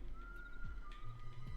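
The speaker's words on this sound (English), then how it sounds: "You need to cool with that whistling." Whistling in the video game Metal Gear Solid 4, a faint steady whistled tone held for over a second, drawn out and slightly dipping in pitch midway, over a low background hum.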